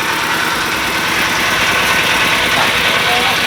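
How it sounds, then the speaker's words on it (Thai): A Thai e-taen farm vehicle's engine idles loudly and steadily close by, with a continuous rough mechanical chug and vibration throughout. "เสียงเครื่องยนต์นะ"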